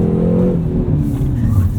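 A 2019 Hyundai Veloster N's engine revs hard through second gear toward the redline on a track, a loud, rising, rasping wail that holds strong throughout.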